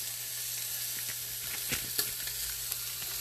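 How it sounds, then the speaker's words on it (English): Meat for birria sizzles steadily in a hot Instant Pot, a constant close-up hiss broken by a few small pops and crackles. "you can hear your meat starting to sizzle"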